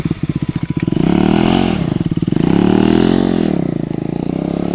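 A KTM Adventure 390 S motorcycle revs loudly nearby and pulls away, its single-cylinder engine note rising through several throttle blips before settling into a steady, fading drone.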